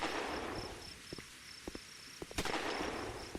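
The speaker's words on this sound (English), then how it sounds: "I'm using a sniper rifle to shoot a padlock." In a GoldenEye-style shooter game, a sniper rifle is fired at a padlock, giving a few sharp cracks and a louder snapping hit over a steady electronic beeping tone and game ambience.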